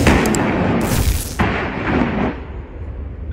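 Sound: naval rocket depth charges being fired from warships

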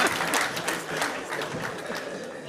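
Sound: audience clapping to encourage the speaker

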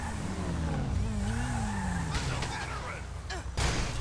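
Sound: Dubsta 6x6 driving in reverse in video game GTA Online

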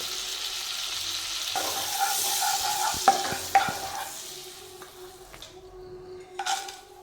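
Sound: butter sizzling in pan for malai chicken

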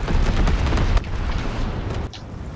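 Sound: incendiary bombs from an enemy bomber exploding, from a video game

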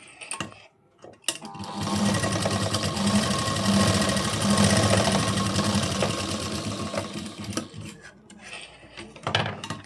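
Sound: sewing machine stitching a katori blouse

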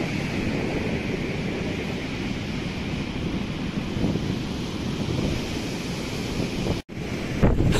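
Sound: wind at the beach

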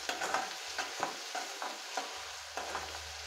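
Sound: onion sautéing in a pan for Kathiyawadi okra curry

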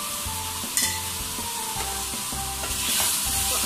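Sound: stirring chicken karahi in hot pan

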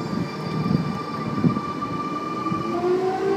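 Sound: Sydney Trains train arriving at Bankstown station platform

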